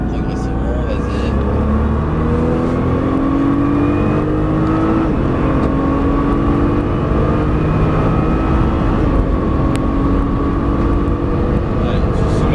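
A Nissan GT-R accelerates hard around a race circuit, its engine roaring loudly and continuously with rising pitch sweeps as it climbs through the revs, while a voice talks over the noise.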